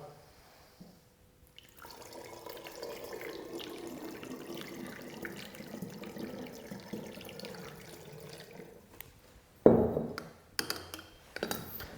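Water poured into a bottle of sugar for homemade yeast water, a steady liquid stream running for several seconds, then a sharper clatter near the end.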